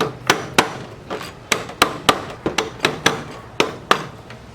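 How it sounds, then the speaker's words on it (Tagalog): Sharp metal hammer blows knock an Allen screw upward on a Honda XRM 110 motorcycle during ball race work, about a dozen close, loud strikes in a fairly steady rhythm with brief ringing after each. "Subukan natin, pukpukin pataas."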